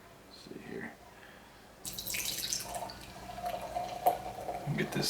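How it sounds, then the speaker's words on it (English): Bearded Iris Another Suggestion double IPA is poured from a can into a glass, a close liquid splash and glug that starts abruptly and runs for a few seconds, with someone talking over it. "Get this thing poured here."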